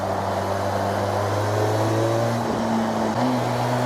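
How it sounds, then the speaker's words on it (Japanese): A Harley-Davidson X350 motorcycle runs in second gear, its parallel-twin exhaust giving a raspy, dry, sporty drone. It is steady and loud and close, and the pitch dips and climbs briefly near the end. "ちょっと3気筒っぽい音ですよね"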